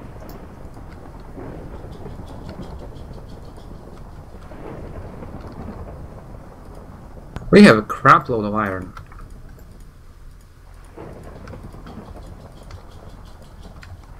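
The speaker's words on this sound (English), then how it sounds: "The storm's very spooky," Thunder from a Minecraft storm cracks and rumbles once midway, loud and close, while keyboard typing clicks on steadily and a player talks around it.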